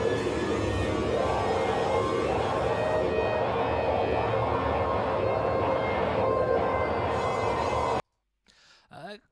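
Dense, harsh noise music blasts continuously at a live noise show, a loud wall of distorted static that cuts off abruptly near the end, followed by a brief faint sweeping tone.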